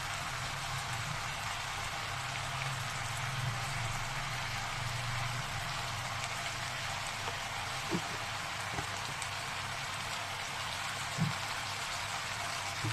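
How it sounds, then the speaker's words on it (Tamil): Chicken sautéing in ghee and butter for a Nattu masala chicken fry: a steady, soft sizzle like light rain, with a couple of faint clicks of utensils against the pan. "நல்லா நீட்டாக இதை வந்து நெய்யில் வந்து வதக்க போகிறோம் இந்த சிக்கனை"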